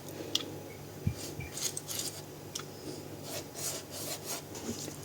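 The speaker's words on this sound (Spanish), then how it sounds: "voy a pincelar toda la torta." Beaten egg whites brushed over a cake with a pastry brush, giving soft, close rubbing and swishing strokes in a quiet kitchen, with a few tiny taps.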